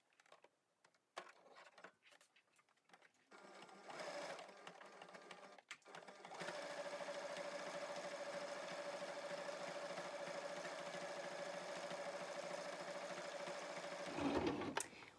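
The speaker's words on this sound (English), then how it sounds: "I'm just going to move my sewing machine in and I'm going to sew up the bias binding" Sewing machine stitching bias binding onto a fabric face mask, a few quiet handling knocks and clicks before it starts, then a steady continuous motor whir that stops with a brief thump, close and faint, no talk.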